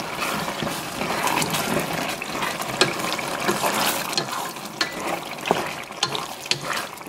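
Garlic and ginger are stirred into a simmering spinach stew, a close wet bubbling sizzle with repeated soft clicks and scrapes of a spoon against the pot.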